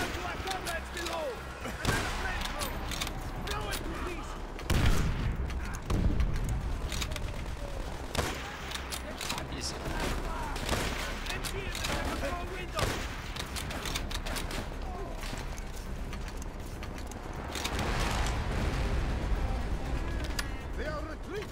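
Rapid gunfire fills a Call of Duty: World at War campaign battle, with bursts of machine-gun and rifle fire, heavier blasts and constant battlefield din going on without a break, dense and loud.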